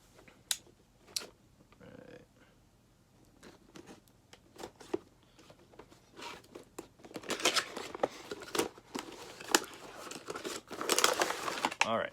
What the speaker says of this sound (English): So let me go ahead and cut this open.